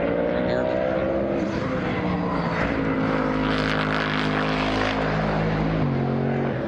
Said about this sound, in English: we've also already heard this car out on track, and I'll play a clip so you can hear this amazing engine.